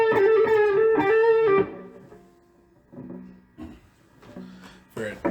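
A Rogue Rocketeer RR100 electric guitar on its neck pickup with distortion rings out in sustained, overdriven notes for about a second and a half, then fades to quieter playing under a brief spoken voice.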